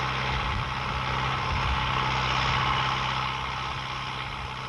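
Tractor engine working a mechanized field of 54 hectares, a continuous low engine drone with a broad noisy wash over it, steady and fairly close, with no voices.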